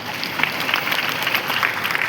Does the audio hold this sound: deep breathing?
no